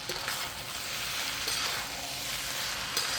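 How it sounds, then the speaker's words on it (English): Thai fried rice with bean sprouts, pineapple, basil and cashew nuts is stir-fried in a hot wok, giving a steady close sizzle with continuous scraping and tossing and no talk. "Just keep on stir frying."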